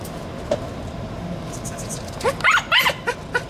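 Dogs hunting street rats bark and yip in a quick burst of several sharp barks near the end, after a faint earlier yelp over a low background.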